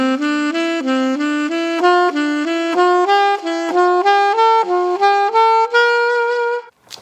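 Unaccompanied guitar playing a scale in a 1-2-3-4 sequence, a steady run of evenly picked clean notes climbing gradually for several seconds, loud and close, then stopping.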